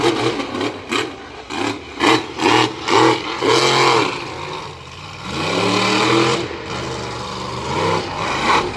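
Monster truck engine revving at a Swedesboro, NJ monster truck event, loud throbbing bursts that rise and fall in quick pulses before a sustained, rising roar.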